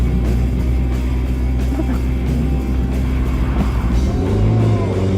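A 2018 McLaren sports car's engine drones loud and close, a steady deep rumble that rises slightly in pitch toward the end.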